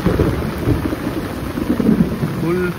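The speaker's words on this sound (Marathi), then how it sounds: "विजांचा फुल कडकडाट आहे" Thunder rumbles low and continuous through heavy monsoon rain in Konkan, mixed with the steady roar of the downpour, and a brief voice is heard near the end.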